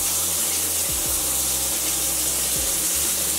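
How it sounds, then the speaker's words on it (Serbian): Water sprays steadily in a continuous hiss from a leaking toilet cistern during a studio build, close and unbroken throughout. "prska vodu"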